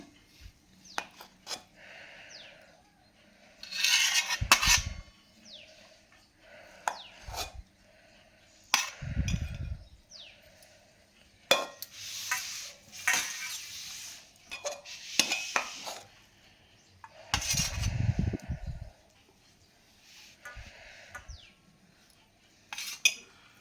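A spoon scrapes and clinks against pots and plates while rice is served alongside mutton fry and tamarind stew, with irregular metallic bursts, scrapes and knocks spread over the stretch, close up with quiet gaps between.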